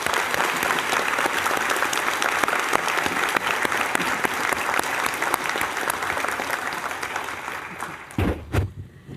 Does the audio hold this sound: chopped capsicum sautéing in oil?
no